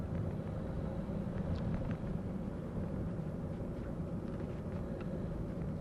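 A learner driver's car accelerates steadily on a test route, its engine a continuous low rumble that swells with added throttle, carrying through a gear change into third at a constant near, moderate level.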